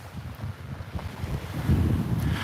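Wind buffets the microphone on a beach on Fehmarn by the Baltic Sea, a steady low rumbling gust that swells louder toward the end, with no voices.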